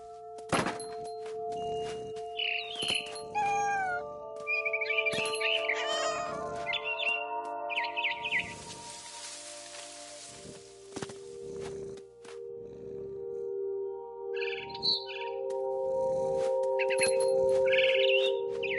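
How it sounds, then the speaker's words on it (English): Scared barn swallow chirping near its nest in the game What Remains of Edith Finch, heard as repeated bright chirps over a steady tonal game score, mixed with cat meows, thumps and a burst of noisy rustling. "It was a barn swallow going back to her nest."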